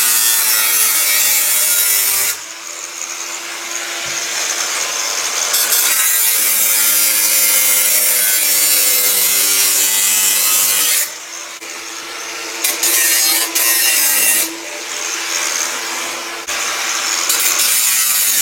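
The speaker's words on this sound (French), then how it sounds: "Ensuite, coupe à la tronçonneuse." A hand saw cuts through a boiler flue pipe with continuous rasping back-and-forth strokes, loud and close, pausing briefly a few times before resuming.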